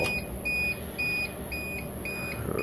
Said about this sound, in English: we got beeping. It's so annoying.